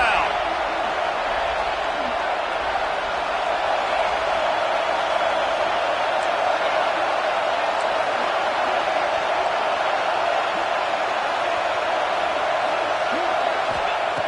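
Steady, dense stadium crowd roar from a college football video game at a 3rd-and-goal defensive stand, a continuous wash of noise filling the whole stretch at even loudness.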